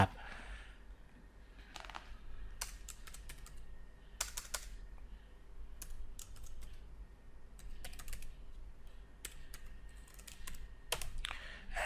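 Typing on a computer keyboard while working in AutoCAD 2020, with scattered bursts of key clicks and pauses, close and crisp over a quiet room hum.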